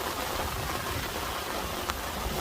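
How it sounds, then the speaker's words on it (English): Rain starting to fall on a car while car camping during a storm makes a soft, steady patter, faint and even throughout, with a light drop or tap standing out near the end. "it's definitely starting to rain now"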